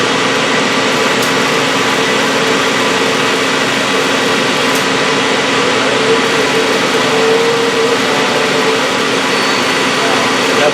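The sub spindle of a Citizen M20V 10-axis CNC Swiss lathe spins at 3,000 RPM, a steady close whirring hum that holds at one level throughout.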